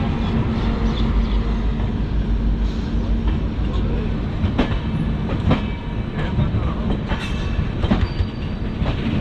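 Gati Shakti Express, a fully air-conditioned economy-class train, rumbling steadily along the rails with dense low wheel noise, occasional squeals and rhythmic clickety-clack at close range throughout.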